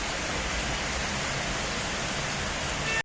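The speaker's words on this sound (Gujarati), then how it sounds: "અચાનક જ ધોધમાર વરસાદ ચાલુ થઈ ગયો છે" Sudden heavy rain during Navratri, a dense, steady roar of downpour close by and broadband with no breaks, cut off abruptly at the end.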